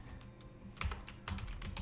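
Computer keyboard keys click in quick irregular bursts as a keyword is typed into a blog post, soft and close, with no voices.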